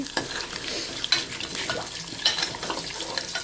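Spices and ingredients for an amla (Indian gooseberry) pickle frying in a pan, with steady soft sizzling and scraping stirs of a spoon against the metal, close and fairly quiet, no voices.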